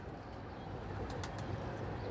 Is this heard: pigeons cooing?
yes